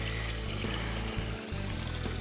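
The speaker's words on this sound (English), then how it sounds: "The trail has basically turned into a creek bed, and even the puncheons are covered in water." Water flows steadily along a flooded hiking trail running like a creek, a continuous close rushing and trickling wash with no voices.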